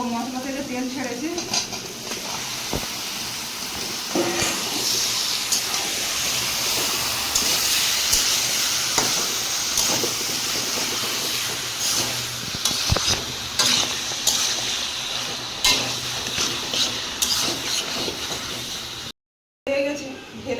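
Meat stirred into a sizzling spice paste that has begun releasing oil, with steady frying hiss, repeated scraping of a spoon against the pan, and occasional clinks of metal, continuous and close.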